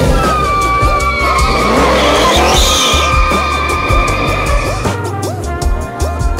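Classic Dodge Chargers doing burnouts: loud, sustained tire squeal and skidding over roaring, revving engines. The sound is dense and close, with wavering screeches that shift in pitch.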